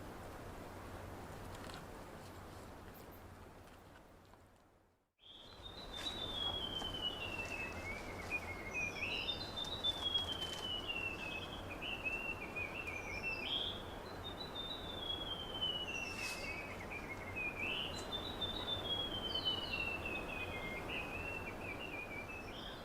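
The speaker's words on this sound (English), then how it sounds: "Been woken up to birdsong, and there's one bird which is so tuneful." Morning birdsong at a wild camp in cloud forest: after a brief quiet gap, one clear, tuneful bird sings repeated descending whistled phrases over a steady hiss of insects and ambient forest noise, with no talking.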